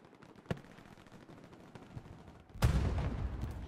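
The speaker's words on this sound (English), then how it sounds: "It's just a lot of gunfire, a lot of their infantry on us as well." Gunfire in the World War II shooter game Hell Let Loose, scattered distant single shots giving way to a sudden heavy close blast followed by sustained rumbling fire and explosions.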